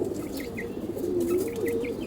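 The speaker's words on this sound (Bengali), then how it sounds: "এই কটা কবুতর কিনেছি" Pigeons coo softly and continuously, close by, their low warbling calls rising and falling with faint chirps and rustling above them, and no talking.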